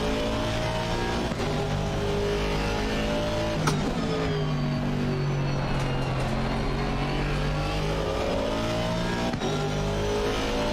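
A racing car's engine drones steadily at high revs in a driving video game at the Kyalami circuit, running loud and continuous with gear shifts and a brief burst of tyre or contact noise partway through.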